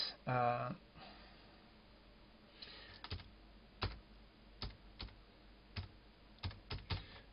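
Keystrokes on a computer keyboard, a sparse series of sharp, close clicks arriving singly and in quick pairs with pauses between, after a brief burst of voice at the start.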